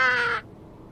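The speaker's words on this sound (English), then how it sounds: "And this crow definitely wants to be seen." A crow in the Nancy Drew game The Haunting of Castle Malloy gives a single harsh, loud caw that cuts off sharply, leaving quiet background.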